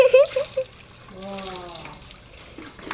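Tap water runs steadily into a bath, a soft continuous splashing rush heard close by, with voices talking and cooing over it in short bursts.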